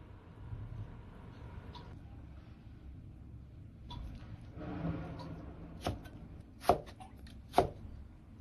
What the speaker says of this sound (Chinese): 这个稍微要切的偏厚一点，然后再切成这样的粗条